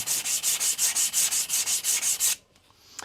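An Aogami 2 bunka blade being thinned scrapes rhythmically back and forth across a coarse 200-grit whetstone, about a dozen quick gritty strokes, close up, then stops.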